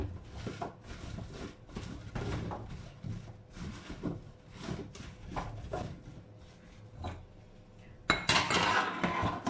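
Cauliflower with salt and oil being tossed in a dish alongside chicken for oven roasting, with steady clinks and scrapes of utensils against the dish throughout and a louder rattling clatter near the end.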